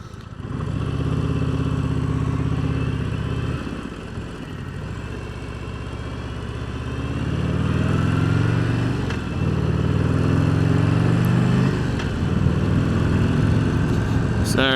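A 2025 Harley-Davidson Heritage Classic motorcycle underway, its low engine rumble rising and easing as throttle shifts, with wind and road noise over about fifteen seconds and a faint voice in places.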